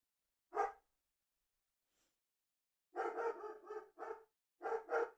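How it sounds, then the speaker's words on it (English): Dogs bark indoors in a few sharp bursts: a single bark, a pause, then a quick cluster of barks and two more close together, fairly near and loud against silence. "I can't even complain about the dogs because it's not like we trained them."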